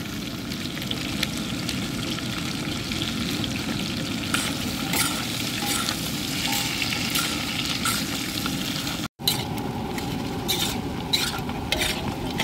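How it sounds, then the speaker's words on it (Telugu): A fifteen-kilogram batch of chicken fry deep-fries with salt, chicken masala, chili powder and garam masala, a continuous close sizzle broken by scraping stirs and a brief dropout near the end. "వేగుతున్న చికెన్ ఫ్రైలో సాల్టు, చికెన్ మసాలా, కారం, అలాగే స్పెషల్గా దంచుకున్నటువంటి ఇది గరం మసాలా."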